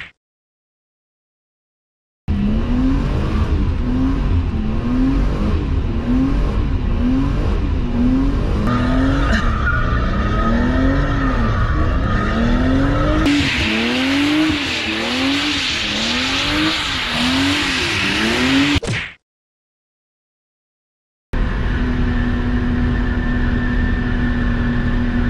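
A car drifts in circles, its engine revving in rhythmic rising and falling waves while the tires squeal and skid loudly and continuously, with a harsh burst of tire noise midway before it cuts off.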